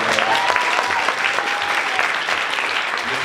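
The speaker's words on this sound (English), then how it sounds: "Please give them a round of applause." Audience at a comic and fan culture panel gives the panelists a full round of applause, continuous crowd clapping holding steady before gradually easing, with a faint voice briefly audible underneath.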